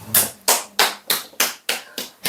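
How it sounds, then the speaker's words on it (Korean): A few sharp hand claps at a Buddhist dharma talk: six crisp, evenly spaced claps in steady rhythm, fairly close and clear, with no talk over them. "박수를 갑자기"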